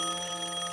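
A telephone rings loudly with a steady electronic bell tone that holds unbroken throughout, heard alone without voices.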